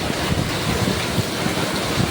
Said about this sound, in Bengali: কত সুন্দর বৃষ্টি হচ্ছে